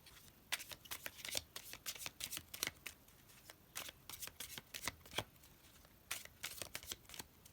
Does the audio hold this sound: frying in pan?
no